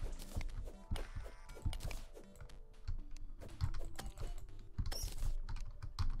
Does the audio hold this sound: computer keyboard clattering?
yes